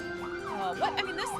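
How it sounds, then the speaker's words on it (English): An ambulance siren wails with rising and falling tones, moderately close, at a street parade, over a background of street noise. "An ambulance is coming up the way. You can start hearing those sirens."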